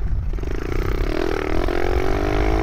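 A mini motorbike accelerates along a dirt trail on a late afternoon, its small engine note rising steadily in pitch over a constant rumble and scraping, close and loud throughout.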